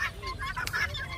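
A chukar partridge gives loud, nearby honking calls in a quick series of harsh, repeated notes.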